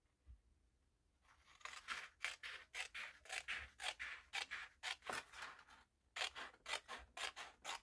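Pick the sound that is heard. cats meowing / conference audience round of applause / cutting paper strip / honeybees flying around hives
cutting paper strip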